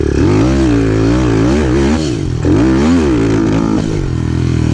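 A small pit bike engine revs hard and close, its pitch surging up and sagging as it bogs, rising again in uneven, wavering pulls.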